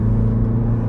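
Inside the cabin of a 2018 Mini Cooper S, the engine gives off a steady low rumble and hum at a constant level, close and fairly loud, with no voices.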